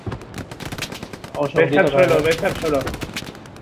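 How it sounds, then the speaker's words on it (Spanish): Rapid automatic gunfire bursts out in a World War-style shooter game, with clustered shots in the middle of the clip under a voice speaking Spanish. "Nos disparan de frente"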